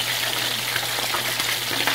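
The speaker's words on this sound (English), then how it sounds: "And we have the rest of it frying right there." Fish fries in hot oil in a pan, giving a steady dense sizzle with crackling, close and fairly loud, alone and without talk.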